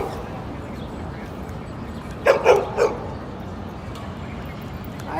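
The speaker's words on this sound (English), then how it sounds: "I'm here at a dog park in New York City, and here to see how the dogs have a good time" A few short dog barks ring out together midway through, moderately close, over steady open-air background noise at a New York City dog park, with quiet stretches before and after.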